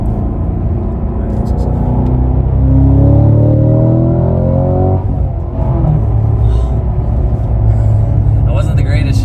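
Engine of a 2022 Cadillac CT5-V Blackwing with a manual gearbox rumbles and revs from inside the cabin, pitch climbing then dropping through a gear shift, loud and steady, with a voice speaking over it.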